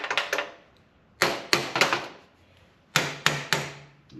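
Adjustable crescent wrench used as a hammer, tapping metal in three quick clusters of sharp, close strikes separated by short pauses, during work on a welded cast part.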